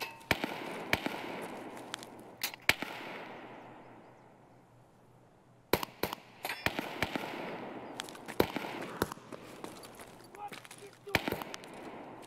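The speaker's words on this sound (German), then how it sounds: "Ich glaube, das ist der Skef, der da schießt." Gunfire from a Scav in Escape from Tarkov, sharp distant shots in scattered bursts and singles with quiet gaps between them, heard from a player's position.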